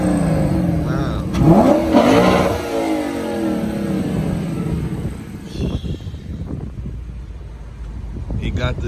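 A Lexus RC F with a Borla exhaust revs up sharply, a loud rising roar, then idles and burbles more quietly while people talk nearby.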